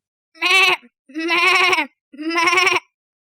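A schoolchild imitates a goat, bleating three times with a shaky, quavering tone, close and loud, separated by brief pauses.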